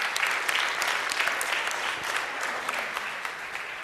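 A church congregation claps steadily for a few seconds, dense and even, with no voices over it.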